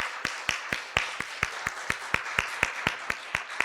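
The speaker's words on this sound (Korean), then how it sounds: "우리 박수로 한번 환영하시겠습니다" Church congregation at a Sunday service clapping to welcome visiting church members, a steady, evenly spaced rhythm of sharp claps, moderately close, with soft room noise between beats.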